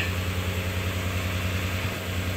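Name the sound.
Nissan engine idling after exhaust manifold replacement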